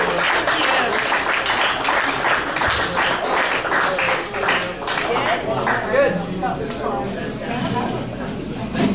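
Applause from a small club audience after a local musician's set, a dense steady patter of clapping running throughout with no break, fairly close and even in loudness.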